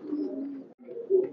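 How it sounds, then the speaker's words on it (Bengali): A male red-necked high-flyer pigeon coos up close at a loft in Khulna, giving two short, low, throaty phrases separated by a brief pause, with no talking. "এই মদ্দাটা গলালাল একটা কবুতর"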